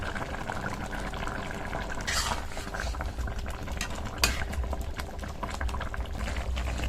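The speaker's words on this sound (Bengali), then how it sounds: "মাছটা দিয়ে 2 মিনিট ফুটিয়ে নিয়েছি" A pot of thin fish curry with mrigal fish bubbling at a steady boil, close and continuous, with soft liquid popping and a few faint clinks, no voices.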